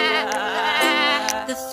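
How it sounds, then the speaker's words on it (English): A sheep bleats in a children's animal-sounds song, one sustained, wavering cry lasting nearly two seconds, clear and close with no talking over it. "The sheep says baa."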